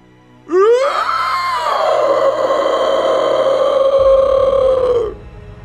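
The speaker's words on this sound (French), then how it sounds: "La créature poussa un cri ignoble et effrayant." Monster creature's horrible, frightening scream as an audiobook sound effect: a rising, drawn-out guttural shriek that settles into a long, rasping, sustained howl before cutting off, loud and alone.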